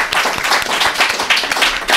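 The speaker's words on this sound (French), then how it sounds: "si on peut l'applaudir" A live audience claps for a performer at a French audio-drama event, a short burst of dense, fairly loud applause at close range with no speech over it.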